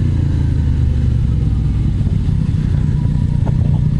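Motor vehicles come down the winding Irohazaka road past a motorcycle rider, their engines rumbling loud and steady with road and wind noise.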